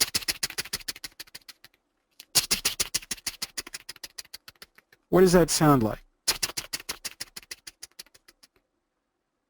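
Fingers tapping out an imitation of a rattlesnake's tail rattle make runs of rapid, dry clicking in three bursts, with a short spoken question between the last two.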